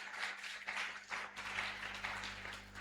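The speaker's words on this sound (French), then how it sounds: "Acclame très fort au Seigneur Jésus." Worshippers at a Monday night prayer meeting clap for Jesus, a faint, uneven patter of hand claps rising and falling in loose bursts.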